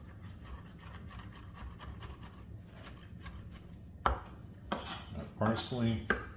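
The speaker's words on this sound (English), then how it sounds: "Parsley, chop this up." A knife chopping fresh parsley on a cutting board: soft, quiet rhythmic taps at first, then a few sharper, louder knocks and scraping near the end, with no talk.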